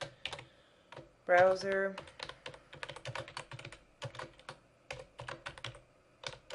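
Rapid typing on a computer keyboard, quick bursts of close clicky keystrokes running throughout, with a brief spoken word near the start.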